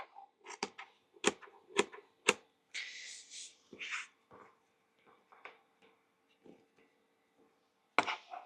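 Scissors cutting through lining fabric for a sewing project, a series of sharp crisp snips in quick bursts, close and fairly quiet, with scattered lighter handling sounds in between and no talk.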